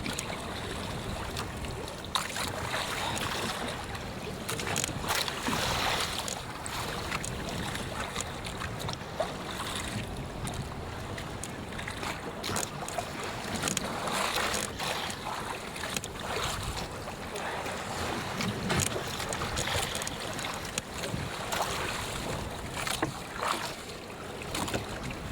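Strong wind blows over a small fishing boat at sea, a steady rough roar with gusty buffeting that continues without a break.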